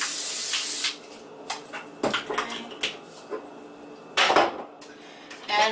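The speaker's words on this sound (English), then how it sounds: "And I'm going to spray it. The little olive oil spray." A short hiss of olive oil cooking spray bursts at the start, followed by scattered clinks of cookware and a few quieter sprays and taps.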